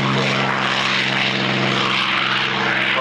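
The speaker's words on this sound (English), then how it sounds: "Very high rate of climb. Straight up." A propeller-driven observation and forward air control airplane climbs steeply at the North Weald airshow in 1999, its engine a loud, steady buzzing drone that holds close and constant with no voices over it.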